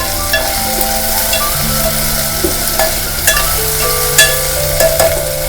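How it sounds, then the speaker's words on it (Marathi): Onion-potato curry masala with red chili powder and onion-garlic masala is sautéed in a pan, a loud close sizzle with scraping spatula strokes and soft clinks. "आणि आता हे परतून घेऊया."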